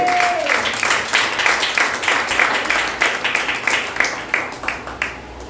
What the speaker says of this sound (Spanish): Yo quiero que hoy le demos un aplauso al Señor por esas mujeres extraordinarias que están aquí ahora.